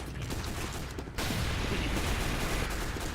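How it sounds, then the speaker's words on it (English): A Pyro's detonator flare gun goes off in Team Fortress 2: a sudden loud blast, then a sustained roaring burst of noise that stays up close and steady, with no voices. "he uses a flare gun because he is a Pyro. And if I right click it, I can detonate it."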